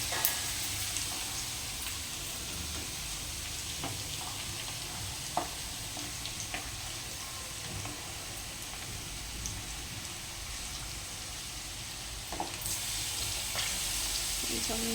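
Garlic frying in oil for raw mango chutney, a continuous loud crackling sizzle with occasional clicks and scrapes from stirring, steady throughout the long stretch without speech.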